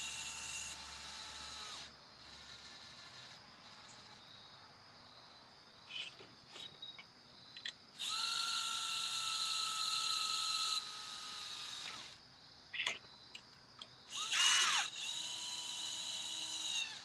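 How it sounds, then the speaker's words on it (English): Quiet, steady whirring with a faint insect-like chirp runs throughout, interrupted by a few longer, louder stretches of slow, even motor whine from a drill running at slow speed. "pop it in your drill. And this is one you want to, I find it works better on slow speed"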